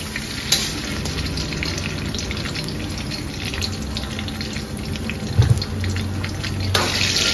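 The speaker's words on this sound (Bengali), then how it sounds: "এগুলো এবার লাল লাল করে ভাজা হবে।" Chopped onions frying in hot oil with whole spices in a pan: a loud, continuous crackling sizzle close up, broken by a few sharp clinks of stirring, with no voices.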